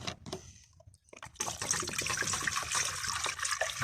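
Water pours steadily into a cooking pan for boiling cowboy coffee outdoors in the woods, beginning with brief knocks and splashes, then a continuous loud gushing stream.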